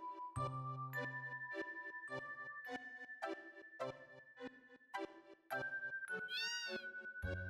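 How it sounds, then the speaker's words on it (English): A cat in the Final Fantasy VII video game meows several times in a row, sitting over a tinkling chime-like musical background, with one rising caterwaul near the end. "Hi, kitty."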